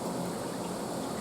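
Water runs in a steady, even wash onto a spinning polishing wheel, with a continuous close hiss and no pauses.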